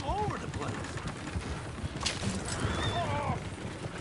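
Horses whinny and squeal in a Red Dead Redemption 2 game scene while hooves clop irregularly on the ground, with voices talking over the commotion.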